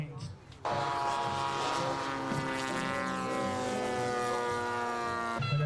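Radio-controlled model airplane flying at an outdoor air show, its engine or electric motor a steady, loud, high-pitched drone with rising harmonics that holds throughout after a brief quieter start.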